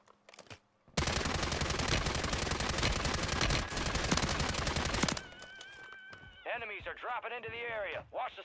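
Rapid video-game gunfire from an online shooter match with a chopper and riot-shield enemies, a dense loud burst lasting about four seconds, then quieter game effects and tonal sounds with voices talking over them.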